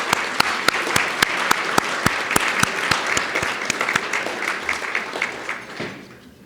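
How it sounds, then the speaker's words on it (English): Applause from the audience at a STEM leadership and lifetime achievement award ceremony, a dense steady wash of clapping with sharp individual claps standing out, trailing off near the end. "I'd like a round of applause for all of them."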